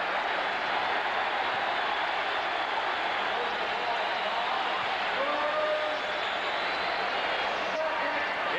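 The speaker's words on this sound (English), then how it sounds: "Now listen to the crowd." A packed arena crowd roars at a 1982 Sixers–Celtics playoff basketball game, a steady loud wash of cheering and noise that holds throughout, with a commentator's voice underneath.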